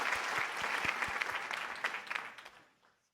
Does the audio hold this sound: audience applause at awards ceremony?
yes